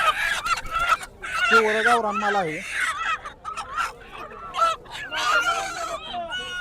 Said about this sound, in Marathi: या ठिकाणी देशी कोंबडे आहेत सगळे गावरान